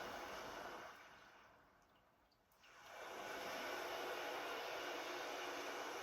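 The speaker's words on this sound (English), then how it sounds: "I got the ocean waves going" Recorded ocean waves play during a calming meditation, a broad steady wash that fades into a quiet pause and then swells back up into a loud, continuous surge, with no voices.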